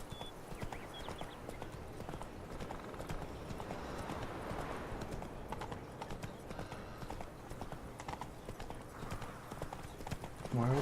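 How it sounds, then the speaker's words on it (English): Horse hooves clip-clop steadily in the Witcher 3 video game, a continuous trotting rhythm under ambient game music and effects, with a brief neigh or whinny possible and a louder burst at the very end. "Wild horses."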